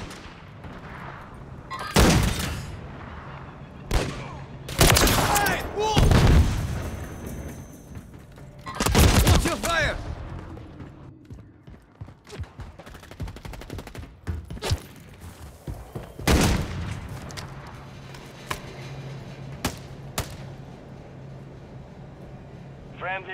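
Bursts of gunfire in a tactical exchange, several loud sharp volleys spread irregularly with shouted talk between and over them.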